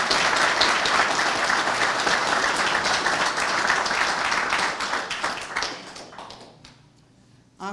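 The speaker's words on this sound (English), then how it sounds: "Let's give them a round of applause." An audience at the 2023 Men's Health Summit at WSHC bursts into dense, sustained applause, loud and even for several seconds before thinning out into scattered claps and fading near the end.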